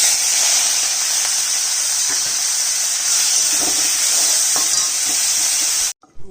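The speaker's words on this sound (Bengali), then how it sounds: "চিংড়ি মাছটা ভেজে নিচ্ছি" Shrimp frying in a pan with cumin, a steady loud sizzle and hiss with faint stirring taps, cutting off abruptly near the end.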